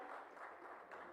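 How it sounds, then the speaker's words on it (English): Audience applause at an interior and exterior design awards ceremony, a dense, steady wash of many hands clapping at moderate distance, brief and continuous with no break. "let's have a louder round of applause, ladies and gentlemen"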